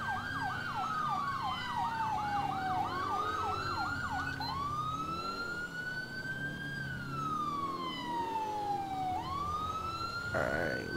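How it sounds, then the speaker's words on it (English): A loud wailing police siren in the video game GTA 4 sweeps up and down continuously, switching between fast yelping cycles and long slow wails, with a low engine rumble beneath. "You don't see the freaking bright lights and sirens?"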